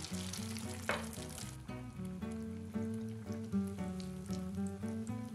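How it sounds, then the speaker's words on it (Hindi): Egg-coated Mughlai Nargisi koftas fry in hot oil until golden, a soft, steady crackling sizzle running quietly beneath prominent background music. "अब कोफ्तों को इस फिटे हुए अंडे में अच्छी तरह से लपेटकर गरम गरम तेल में डालते जाएंगे"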